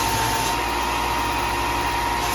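A belt sander runs continuously up close while building a game show wheel, giving a loud, steady motor drone with a constant whining hum and no pauses.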